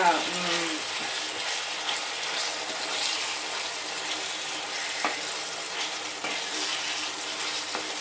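Marinated chicken frying in a pan of paste, a steady crackling sizzle throughout with a brief louder splash at the start as the pieces go in.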